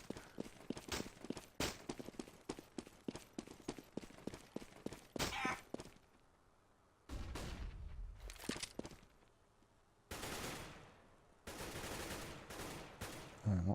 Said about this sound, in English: Lots of AK fire towards top Banana.